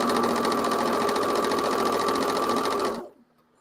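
A sewing machine runs in one steady, fast continuous stitching burst for about three seconds, then stops abruptly, leaving near silence.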